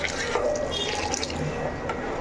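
Water pours into a pot for chicken pulao with a near, continuous gurgling splash and a few drips, and faint voices murmur in the background.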